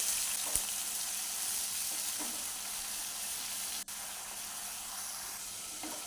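Ginger and poppy seed paste with black cumin and a splash of water sautéing in mustard oil for ilish bhapa, a steady close sizzle and hiss with faint stirring scrapes throughout.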